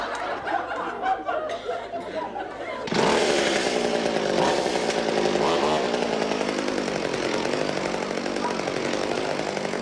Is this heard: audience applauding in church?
no